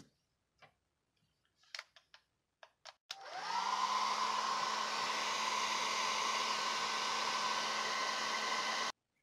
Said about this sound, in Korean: 그래서 드라이기를 사용을 해서 좀 말려 보도록 할게요